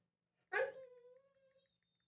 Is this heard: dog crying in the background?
yes